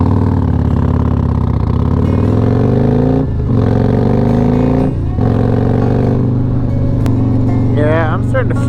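Harley-Davidson Road Glide motorcycle engine droning steadily at close range while riding in second gear, with someone talking over the continuous rumble throughout.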